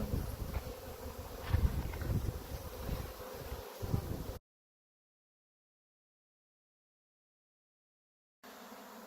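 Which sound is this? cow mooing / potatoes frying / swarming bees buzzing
swarming bees buzzing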